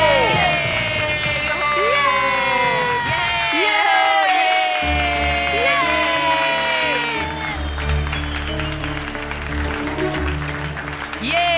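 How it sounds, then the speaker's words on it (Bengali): A crowd claps and cheers for a contestant who broke a pot in a game, with whoops and children shouting mixed into continuous applause, loud and lively throughout. "জোরে হাততালি মন্টু লাখানির জন্য।"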